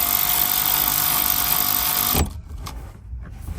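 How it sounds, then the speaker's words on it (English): An electric ratchet fitted with an Allen socket snugs down bolts during an armrest install in an RD1 Honda CR-V, giving a steady, close motor whir that runs for about two seconds and then cuts off abruptly into near silence. "I actually have an Allen socket here on my electric ratchet, and that's what I'm going to be using to tighten those down."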